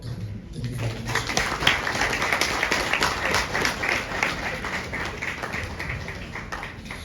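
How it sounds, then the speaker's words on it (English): A large audience at a Ghanaian youth employment event applauds steadily, dense clapping filling the room throughout without a break. "once again, a round of applause"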